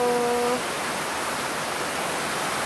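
Steady, heavy typhoon downpour with wind, a thick constant hiss of rain that opens with a short tonal voice-like sound before settling into unbroken rain.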